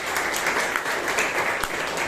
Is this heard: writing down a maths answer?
no